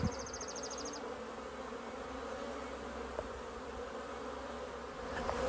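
Honeybees from a newly installed package hum steadily at a hive on a Maine farm in spring, a soft continuous buzz that holds throughout with no talking.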